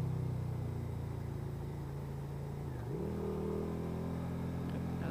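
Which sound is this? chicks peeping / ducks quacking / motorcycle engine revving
motorcycle engine revving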